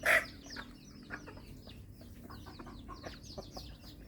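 Chickens cluck in a busy, overlapping chorus of short, sharp calls, one loud squawk up close at the start and the rest moderately near.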